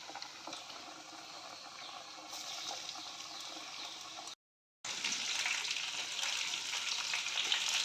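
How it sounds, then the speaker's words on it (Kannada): Food fries in hot oil with a dense, steady crackling sizzle, close and continuous, interrupted by a short silent cut before resuming brighter. "ಎಣ್ಣೆ ಕೂಡ ಬಿಸಿಯಾಗಿದೆ. ಒಂದೊಂದನ್ನೇ ಫ್ರೈ ಮಾಡಿಕೊಳ್ಳುವ."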